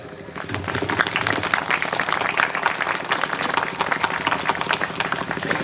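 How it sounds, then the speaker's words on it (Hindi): A gathering at a thanksgiving Mass celebration in Nathpur-Lauwakera, Gumla, claps in welcome, producing loud, continuous crowd clapping with a brisk rhythmic texture that holds steady from start to finish. "हमरे स्वागत स्वरूप तनिकन ताली बजाए दे"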